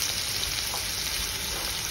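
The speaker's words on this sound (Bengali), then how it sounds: "সর্ষে শাক রান্নার জন্য মাছগুলোকে প্রথমে ভাজতেছি" Snakehead fish fries in hot oil in a wok for mustard greens, giving a steady, dense sizzle with fine crackle throughout, close and continuous with no talk.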